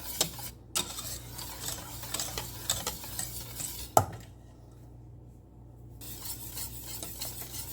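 Whisking cranberry curd in a pot while butter melts, a steady soft scraping and swishing with light clicks of the whisk against the metal, close and continuous with a brief quieter stretch.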